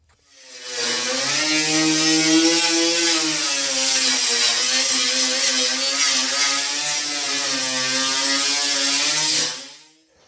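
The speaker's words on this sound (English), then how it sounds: "I'm gonna go ahead now with the grinder," Angle grinder cleaning up rusted car body metal during a rust repair: a loud, close, sustained whine that spins up, grinds steadily with slight pitch wavering for about eight seconds, then cuts off.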